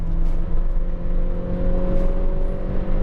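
A 2016 Skoda Rapid 1.2 TSI DSG with tuned software accelerating hard from a standstill, its engine droning loud and steady from close by with rising tone and no pauses.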